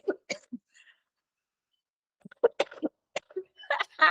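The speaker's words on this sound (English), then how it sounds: "Need to cough a bit." A person coughs in several short, close bursts separated by quiet pauses, with a few throat sounds in between.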